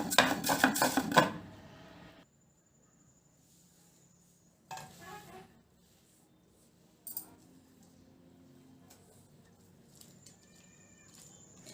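Green chillies are crushed in a mortar for gongura chutney: about two seconds of close, rapid rhythmic pounding, then near quiet broken by a few faint knocks and scrapes.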